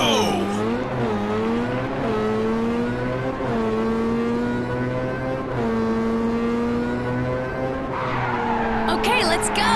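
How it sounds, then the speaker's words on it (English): Race car engine in Ridge Racer 7 on PS3, launched at the race start with the pedal fully down: a loud, sustained, rising engine roar with tire skid and squeal, steady throughout, with a voice coming in near the end. "Push the pedal down all the way for a superb start."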